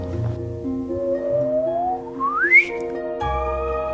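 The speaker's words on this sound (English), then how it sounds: "Take neutron stars in the act of merging. They make this wonderful chirp. It's a cosmic chirp." Sonified gravitational-wave chirp from two merging neutron stars, a single smooth whistle-like tone sliding steadily upward in pitch over about two seconds before cutting off, set against a soft sustained musical background.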